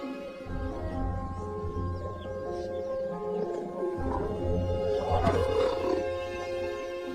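Leopards mating above the ground, with continuous low rumbling growls and a harsher, louder snarl near the end, close and sustained throughout.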